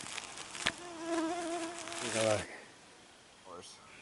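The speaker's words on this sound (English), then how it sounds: "the mosquitoes attack and start to bite" Mosquitoes buzzing outdoors in a swarm, a thin whining drone that rises and wavers for about two seconds alongside faint talk, then fades with another brief buzz near the end.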